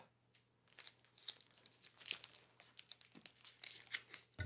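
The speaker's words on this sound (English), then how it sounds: "Let's get this open here. Looks like a lot of tape." A heavily taped package is torn and pulled open at close range, with a steady stream of crinkling, ripping tape and rustling paper and card, fairly quiet and without talk.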